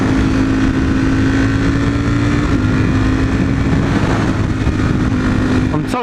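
A motorcycle engine runs at a steady, loud idle with a constant low drone and wind buffeting the microphone throughout.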